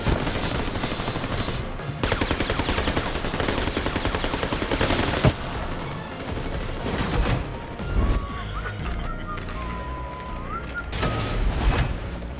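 Covering gunfire in the Tales from the Borderlands video game: dense rapid bursts of shots fill the first five seconds, then scattered crashes and bangs follow alongside shouted voices and game sounds.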